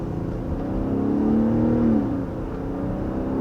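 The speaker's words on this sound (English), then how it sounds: "pay attention as we take off here just how refined it feels, even under hard acceleration" A 2022 Nissan Pathfinder with a VQ V6 engine accelerates hard, heard from inside the cabin as a steady, smooth engine hum that rises in pitch and then settles when it shifts.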